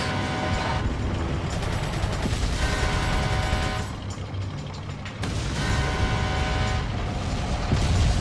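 Machine gun fire in the video game Resident Evil 4, sustained rapid bursts rattling continuously over game noise, loud and dense, briefly thinning midway before resuming.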